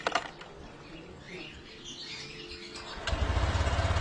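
After a few seconds of quiet background sound, a Honda Click scooter engine starts up and runs with a loud, throbbing low rumble.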